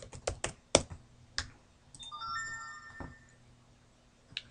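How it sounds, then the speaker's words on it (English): A mobile phone ringtone sounds as a short run of rising electronic tones, heard amid keyboard typing and mouse clicks during computer work. "Sorry, that's my phone."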